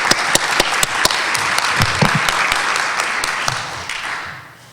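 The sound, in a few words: applause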